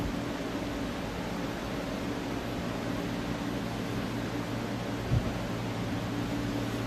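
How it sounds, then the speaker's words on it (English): A heater runs steadily inside an arts centre in cold weather, a soft even whoosh with a low hum beneath it, continuous and unchanging, with one tiny knock near the end. "And I'm sure you can hear the heater in the background."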